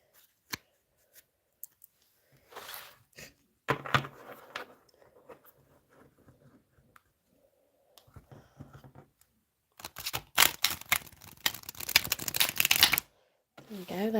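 A thick tarot deck is shuffled by hand in bursts of riffling and crisp card slaps, separated by quiet pauses, close and fairly soft, ending in a long, dense riffle.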